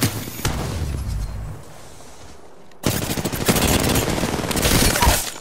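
Rapid bursts of video game gunfire crackle loudly, breaking off briefly before a dense stretch of sustained shooting resumes and runs to the end.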